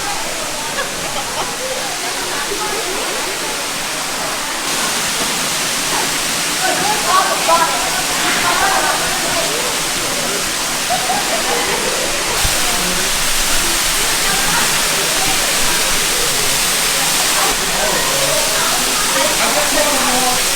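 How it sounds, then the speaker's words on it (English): A hidden waterfall found on a hike roars steadily and loudly, a dense unbroken rush of falling water that stays constant from start to finish. "That's a cool waterfall,"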